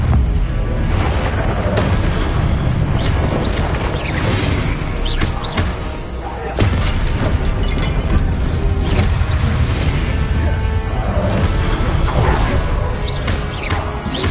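Continuous loud booming blasts from the Confringo fire spell in Hogwarts Legacy fill the stretch with dense, rumbling explosions and crashes, one sharp impact standing out midway.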